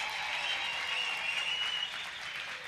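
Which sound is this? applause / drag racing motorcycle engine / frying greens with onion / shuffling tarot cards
applause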